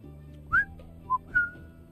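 Someone whistles three short tones nearby, a rising chirp, a brief note, then a longer held pitch, over a low steady hum.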